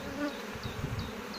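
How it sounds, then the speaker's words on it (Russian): Honeybees swarm around an open hive as colonies are split, giving a close, continuous buzzing hum with several individual bees whining past. "Но здесь и летные пчелы, и молодые"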